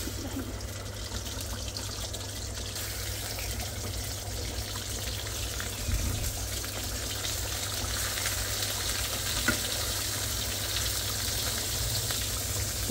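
Fish frying in a pan with garlic paste, a steady close hiss and crackle of hot oil that runs evenly without pauses.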